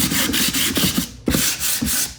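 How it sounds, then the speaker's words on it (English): Painted wood furniture being hand-sanded with 220 grit sandpaper in brisk back-and-forth rubbing strokes, loud and close, with a brief pause midway and no talk. "All right, so 220 sandpaper,"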